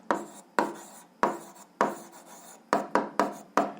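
A pen scratches across paper while algebra problems are worked, a string of quick rasping strokes, each sharp at the start and fading, grouped irregularly and heard close with no talk.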